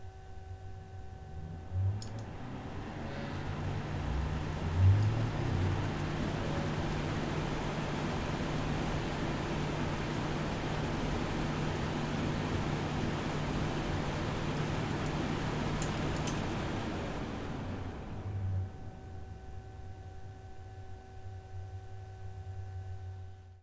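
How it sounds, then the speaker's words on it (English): Silverstone Permafrost 240 CPU cooler with both fans spinning up toward 2200 RPM, giving a steady broadband whoosh of air with a low hum that holds evenly for about fifteen seconds and then drops away. "And the cooler sounds a bit like this."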